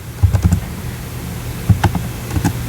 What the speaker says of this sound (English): we'll type in those numbers